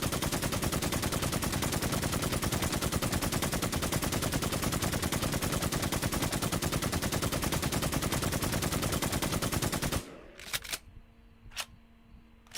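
Rapid automatic gunfire fires on a zombie alien boss in the video game WarZ. It is a dense, continuous rattle of shots for about ten seconds, then it stops, and a few scattered clicks and single pops follow.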